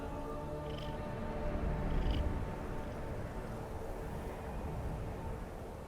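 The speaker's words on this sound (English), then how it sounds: "Can everybody hear him purring?" A cat purring in the Skyrim video game, a steady low rumbling purr running throughout at a soft, even level with no talk over it.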